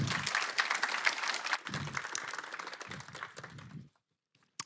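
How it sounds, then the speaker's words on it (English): An audience claps in a steady round of applause that stays fairly loud before thinning out and fading to silence near the end. "a big round of applause for Emma and Göran."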